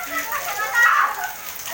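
Rain falls steadily as girls play outdoors in it, a continuous hiss of water with voices and chatter mixed over the top for a brief moment.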